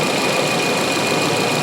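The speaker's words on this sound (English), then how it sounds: "this engine sounds really, really good" A Subaru Forester engine running hot, a steady close idle with a dense, even mechanical hum and faint rapid ticking, constant in level with no talk.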